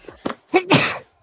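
A single loud, close human sneeze, a quick sharp burst with a short inhale before it, at a tabletop role-playing session.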